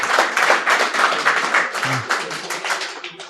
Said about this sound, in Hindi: एक बार ना अपने फौजी भाई के लिए जोरदार तालियां